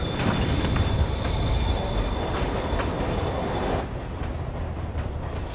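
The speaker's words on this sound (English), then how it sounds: "Train moving." A train rolls along the tracks in Marvel's Spider-Man video game, a loud, close rumble with high squealing wheels and rhythmic clatter that eases slightly toward the end.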